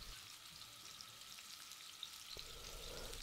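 Duck breast frying in a stainless steel pan, started from cold over medium-high heat, gives a steady, even sizzle with faint pops throughout and no voices.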